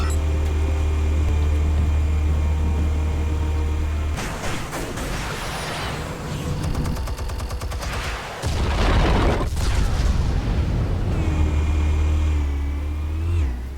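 An explosion in the video game Batman: The Telltale Series, a sudden booming blast breaking through steady game rumble, followed by crackling debris and a second loud burst.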